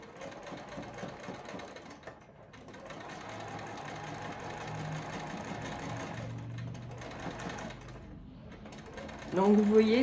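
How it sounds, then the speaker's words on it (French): Sewing machine stitching paper-pieced patchwork, a steady close mechanical whirr of needle and gears running for several seconds, pausing briefly twice, with a short quiet voice near the end. "Je n'ai plus qu'à coudre sur la ligne de couture comme avant."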